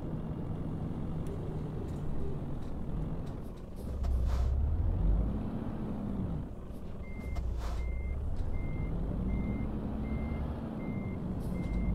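A truck in Euro Truck Simulator 2 parks to regular, evenly spaced reversing beeps over a low engine rumble, with an air-brake hiss along the way.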